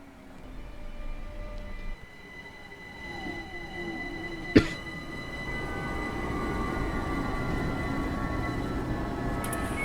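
Minecraft trains arrive at a station with a rumbling rolling hum that swells steadily, broken by a single sharp metallic clank midway, no talking.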